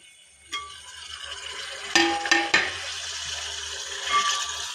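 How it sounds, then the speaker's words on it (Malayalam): Chopped tomatoes go into a pan of sautéing onion, garlic and curry leaves for a Fayomi chicken curry, giving a few clattering knocks of utensil against the pan over a faint steady sizzle. "ഇനി നമുക്ക് അരിഞ്ഞു വെച്ചിരിക്കുന്ന തക്കാളി ഇതിനകത്തേക്ക് ഇട്ട് കൊടുക്കാം"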